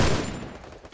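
A Groza rifle in a shooting game lets off a loud close blast that fills the first instant, then decays into a rough fading rumble.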